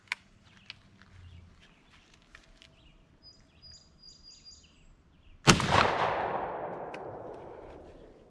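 A shotgun shot at an outdoor range with an improved cylinder choke, a 2¾-inch shell and 7.5 shot, one loud sharp blast with a long decaying rumble after quiet ambience with faint birdsong.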